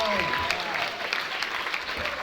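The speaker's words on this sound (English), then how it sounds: "one big round of applause once again for Apex Kids" Audience applause for the Apex Kids church nativity performers, a steady dense clapping that fills the whole stretch, with a voice briefly heard over it.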